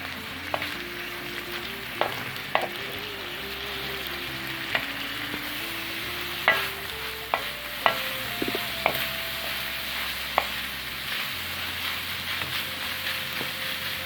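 Tantuni meat fries in oil with a continuous close sizzle, while a utensil scrapes and knocks against the pan in irregular stirring strokes over a steady low background hum.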